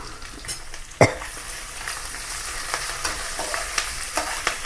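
Garlic, grated ginger and curry leaves fry in hot oil with a steady crackling sizzle, opened by a sharp clatter, then spattering pops and light stirring scrapes throughout.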